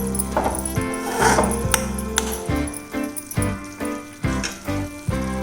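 A spicy chili powder mixture cooks in a pan, bubbling and sizzling steadily with occasional light clinks, close by.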